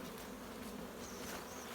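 Dense, continuous buzzing of many honeybees, steady and enveloping, with no voices.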